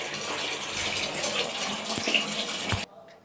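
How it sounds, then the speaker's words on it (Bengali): Water is poured over a freshly scrubbed bathroom floor while cleaning. A loud, steady gush runs for about three seconds, then cuts off abruptly into near quiet. "এই দেখো এবারে জল দিচ্ছি"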